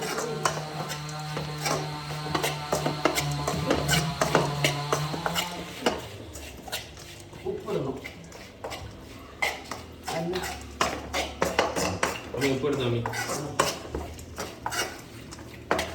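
Hot mango pickle stirred in a pot with a metal spoon, a steady series of clinks and scrapes against the metal, with a voice talking over the first few seconds.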